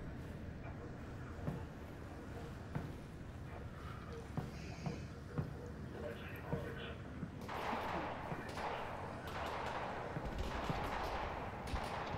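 Sustained gunfire from Combine soldiers with automatic weapons in Half-Life: Alyx, cracking repeatedly over a steady backdrop and growing denser and louder toward the end.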